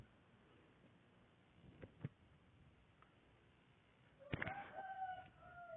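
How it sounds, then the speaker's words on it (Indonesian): A chicken crows somewhere close to an indoor room near the end, a loud wavering call that follows a couple of faint clucks over low background hiss. "Tuh, ada suara ayam lagi."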